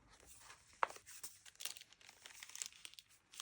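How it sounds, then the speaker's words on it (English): Paper bag crinkling and rustling in a junk journal, with irregular crackles and one sharp crunch, close and fairly quiet, with no voices. "Paper bag, just for the texture and the noise."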